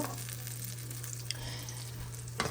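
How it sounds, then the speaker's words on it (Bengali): Coriander leaves fry in a pan for eggplant fry, a quiet even sizzle over a steady low hum, with a couple of faint clicks and a brief stir near the end, no talk. "আর ধনে পাতা একসাথে একটু ভেজে নিচ্ছি"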